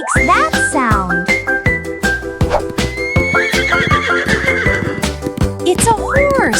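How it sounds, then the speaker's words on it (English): A horse neighs loudly in a long, falling whinny, followed by further whinnies and snorts amid a busy, layered mix with some clip-clop; the calls sound close and dominate throughout. "It's a horse! Neighhh!"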